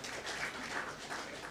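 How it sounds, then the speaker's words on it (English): Faint, steady applause from an audience at a cyber security awards ceremony, a soft continuous patter of clapping heard from a distance. "But still a round of applause for him."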